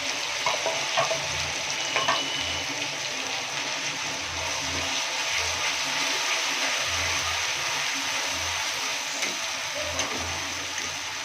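Onions frying in a pan for an egg curry after cumin seeds, a steady broadband sizzle throughout with occasional soft stirring knocks and scrapes of the spoon.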